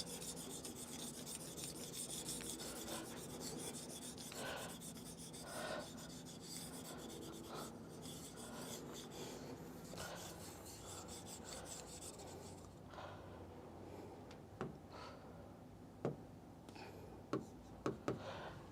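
A board being wiped clean during an Indian economy lecture, a steady dry rubbing and rasping that runs continuously for about twelve seconds, then gives way to quieter room sound with a few sharp taps.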